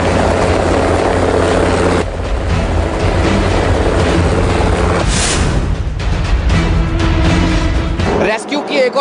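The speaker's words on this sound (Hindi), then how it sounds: "ठीक मेरे ऊपर कितने नजदीक ये एयरफोर्स का वो हेलीकॉप्टर है जो रेस्क्यू में इस्तेमाल किया जा रहा है" An Air Force helicopter flies low overhead during a tunnel rescue near a glacier, a loud continuous rotor roar and whine filling the scene with a brief high-pitched swell midway, before cutting off abruptly near the end.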